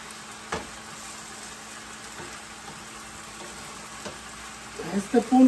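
Food being stirred in a covered pan while it releases its juices during Chinese-style home cooking, a soft low sizzle with light scraping, faint at first and building to a few louder clatters near the end.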